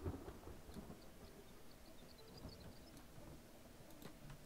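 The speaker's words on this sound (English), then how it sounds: "It's a sad rainy day." Rain falls in the video game Kenshi, a steady, faint hiss with low, distant rumbles of thunder rolling underneath and no voices.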